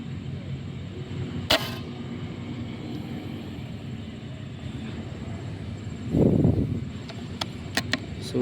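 A single sharp crack from a Black Lava 88 air rifle firing a 15-grain pellet, a brief near report early on, then quiet ambience with a short burst of noise and a few faint clicks.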